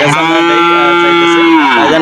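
Cattle at a busy livestock market ahead of the Eid al-Adha sacrifice, one cow giving a long, loud, sustained moo that slides down in pitch at the end, close by over a noisy crowd.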